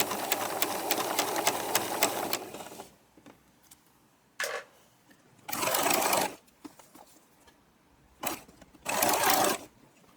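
A sewing machine stitching tape onto a knit neckline, one long steady run of rapid whirring stitches followed by several short bursts after pauses, close and clear with no talking.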